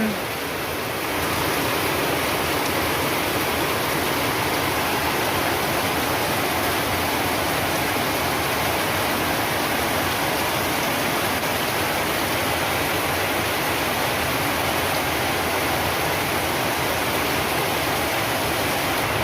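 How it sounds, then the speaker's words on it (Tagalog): Steady, dense rushing of heavy rain, continuous and loud throughout with no letup, like a downpour close by. "Lakas ng ulan."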